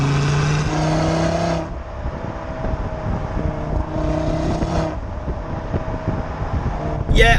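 An Audi RSQ3 with a 400 hp 2.5-litre engine revs up in a lower gear, and its droning engine note climbs, drops at a shift, then rises again. Wind rush sits under it, with a sharp burst near the end.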